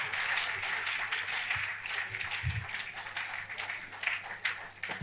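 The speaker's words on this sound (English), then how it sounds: "Big round of applause for Honorable Minister." At an African forensic medicine conference, an audience gives a round of applause for a minister, a moderately loud spread of many hands clapping that runs throughout, with faint voices and a few thumps mixed in.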